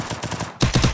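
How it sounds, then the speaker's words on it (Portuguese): Rapid bursts of gunfire in a shooter video game firefight, a softer run of shots followed by a louder, closer volley of quick repeated cracks. "Dando muita bala aí, Mini Steak."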